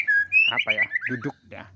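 A white-rumped shama (murai batu) of the Vector type sings in a series of clear, loud, close whistled phrases with quick trills, alone and without talk.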